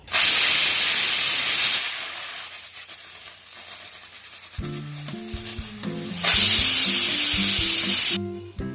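A pressure cooker cooking mixed dal lets off loud, roaring steam hisses, one long burst at the start and another later, with a melodic music passage playing between them.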